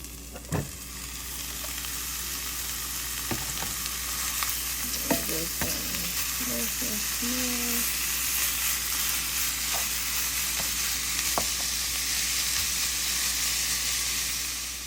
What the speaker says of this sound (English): So now that we have this hot, I'm just gonna add the steak in.